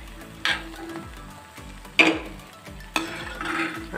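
Nuts fry in oil for a sweet, a soft steady sizzle punctuated by three sharp clinks of a utensil against the pan, with no talking.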